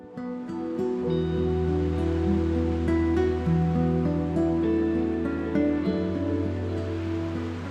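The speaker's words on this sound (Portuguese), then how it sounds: "o som do mar chega suave" Sea waves washing onto the shore of Zakynthos, a continuous rolling wash with layered tonal background sound, steady and fairly loud throughout with no speech.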